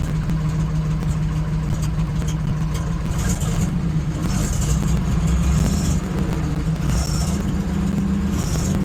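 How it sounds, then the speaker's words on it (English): A car engine idles steadily, a low continuous rumble with an even, unchanging tone and faint higher mechanical ticks riding over it throughout. "Pretty steady idle for now."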